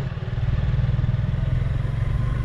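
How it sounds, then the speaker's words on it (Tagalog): Suzuki Gixxer 155 Fi motorcycle downshifted into lower gear without rev matching, its engine braking as a loud, close, rapidly pulsing low drone that holds steady throughout. "third gear, downshift tayo, walang rev matching. Ayun o, kita nyo, grabe engine braking."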